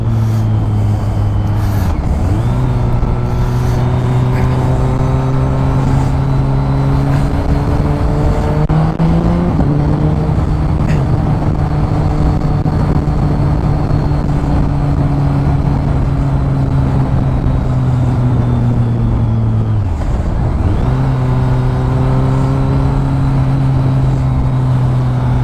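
A BMW K1300S motorcycle engine drones loudly while riding, its steady tone dropping and climbing again at three gear changes, with wind rush underneath and no talking.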